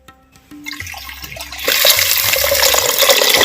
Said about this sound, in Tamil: அதுக்காக மண் சட்டி வச்சுக்கிறேன் தேவையான அளவு தண்ணி ஊற்றிக்கிறேன்